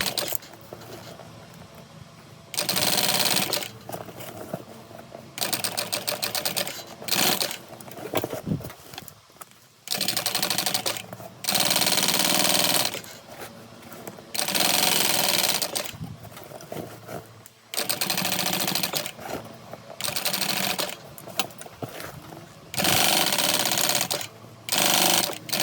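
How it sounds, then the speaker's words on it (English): A home sewing machine runs in repeated bursts of a few seconds each, stitching a second row on a convertible tote bag, with short pauses between runs. "I'm going to do a second row of stitching right next to the first one."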